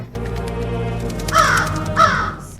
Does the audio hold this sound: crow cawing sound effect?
yes